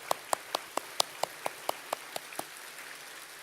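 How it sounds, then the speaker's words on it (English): About a dozen sharp, evenly spaced claps at a commencement ceremony, close and distinct, tapering off after a few seconds into quiet. "Please, graduates, join me in giving them a big round of applause."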